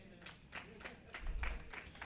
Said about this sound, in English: Thank y'all for those, lonely hand claps